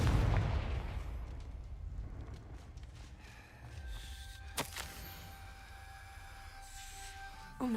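A Confringo blasting spell cast in Hogwarts Legacy, heard as a booming burst over a low rumbling game backdrop, followed by a sharp crack and a lingering tonal ring.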